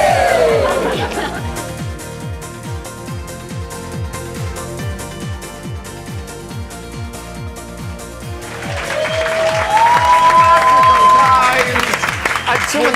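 An audience gives a round of applause, a steady wash of clapping and crowd noise that swells louder toward the end, with voices in the mix.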